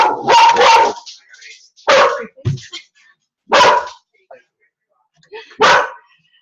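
A small rescue puppy barks sharply at a delivery arriving at the door of a home, several loud yapping bursts in quick succession, spaced by short pauses.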